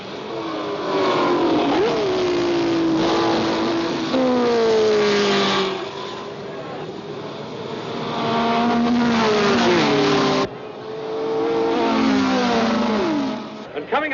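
Grand Prix race cars scream along the main straight, high engines rising and falling in pitch as they rev, shift and pass in waves, with several cars heard one after another.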